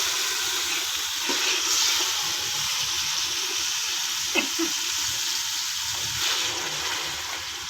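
Water pours from a tap into a pan of green bean and potato curry, a continuous splashing rush with a few brief clinks, close and fairly loud.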